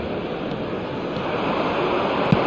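Steady wash of stadium crowd noise from an eFootball match, a broad continuous roar of supporters filling the whole stretch at an even level.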